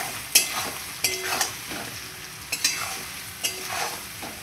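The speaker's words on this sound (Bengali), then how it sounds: "লবণ আর হলুদ দিয়ে আবারও ভালোভাবে আমি আলুটা লাল লাল করে ভেজে নেব।" Potato pieces frying in oil with turmeric and salt, a close, bright sizzle punctuated by repeated scraping stirs of a spatula in the pan.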